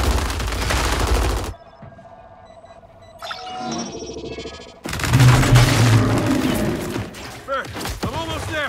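Covering gunfire in Gears 5 bursts out in dense, loud rapid volleys, a long rattling stretch at the start and another heavier one later, with shouted voices and game sound effects in between.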